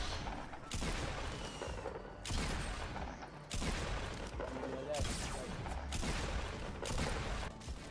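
Double pump shotgun fire in a video game: repeated heavy blasts about every second or so over continuous in-game noise, fairly loud in the mix.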